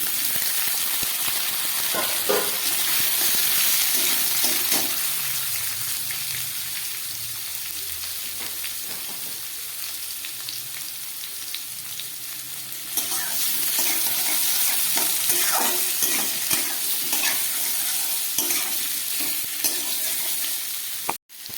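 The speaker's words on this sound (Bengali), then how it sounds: "এবারে আমি দিয়ে দিচ্ছি এই সিদ্ধ হাফেরও কম সিদ্ধ করে রাখা আলু।" Parboiled potatoes, boiled to less than half done, fry and sizzle steadily in a pan for a vegetarian kachori curry, with intermittent stirring scrapes throughout and a brief break partway.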